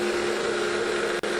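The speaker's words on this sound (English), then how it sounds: "we have a leaf blower, we have a tube, and we have the air coming out." A leaf blower forces air through a tube in a steady, loud, broadband rushing roar with a constant tone, holding unbroken except for one brief dip near the end.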